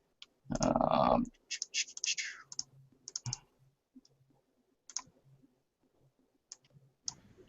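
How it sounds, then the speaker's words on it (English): Lots of sharp, irregular clicks, some in quick clusters and others isolated, with a louder scratchy burst at the start and quiet pauses between, close and dry. "I hear lots of clicking, but I don't see anything"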